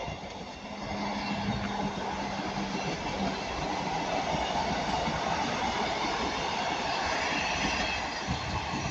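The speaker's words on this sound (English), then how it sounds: "And now passing by is going to be 82201 and 67012 again, working from Manchester, Piccadilly to Cardiff." Passenger trains pass at Ardwick with a 158812 unit leading, a steady loud rolling rumble of wheels and carriages holding throughout, with a brief squeal early on and no talk.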